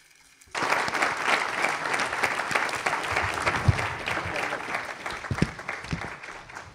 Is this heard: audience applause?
yes